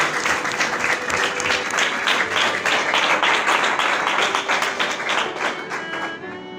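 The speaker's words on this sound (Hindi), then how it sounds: "आइए जोरदार तालियां खुदावंद के जलाल के लिए बजाते हैं।" A church congregation claps loudly and steadily for about six seconds during a worship service, a dense crowd-wide burst that fades slightly near the end.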